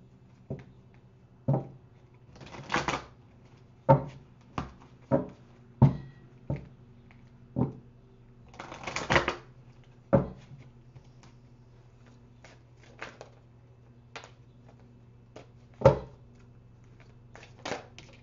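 A deck of guidance cards being shuffled and pulled during a spiritual reading, heard as a series of soft, close riffling bursts and taps spaced a second or two apart over a low steady hum, with no talking.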